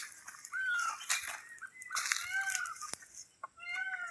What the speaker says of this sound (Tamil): பாத்தியா மயில் சத்தம்?